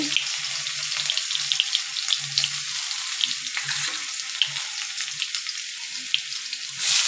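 Black cumin, dried chili and garlic frying in hot oil give a steady, bright, hissing sizzle throughout, with small crackles and a few soft low knocks underneath.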